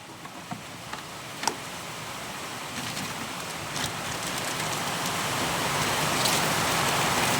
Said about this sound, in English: Can you hear the rain coming down?